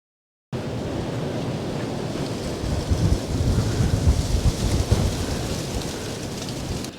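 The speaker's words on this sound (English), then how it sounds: "The wind here today is absolutely unreal." Strong wind blows snow across open farmland and hay pastures, making a dense, steady roar with gusts swelling in the middle and no voices.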